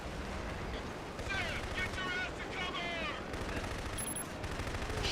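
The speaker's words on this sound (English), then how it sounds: "Machine guns and rockets." Machine guns and rockets fire from a vehicle in the shooter game Killzone, a dense, continuous rattle of gunfire with booming blasts that fills the whole stretch at moderate loudness.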